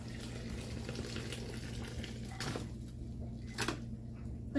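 Hot homemade bone broth poured straight from the pot, a soft continuous trickling and splashing of liquid that ends in a brief clatter, with no talk.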